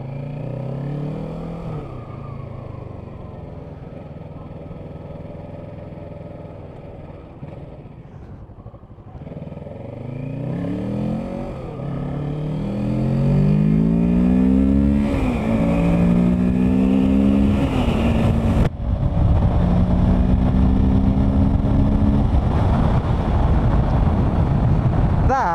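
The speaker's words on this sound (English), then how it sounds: "Moving up the ranks in the motorcycle world, that feels quick." A 2020 Kawasaki Ninja 650 motorcycle pulls away and accelerates while being ridden, its engine note climbing through rising revs and gear changes, growing louder and rougher as wind noise builds over the second half.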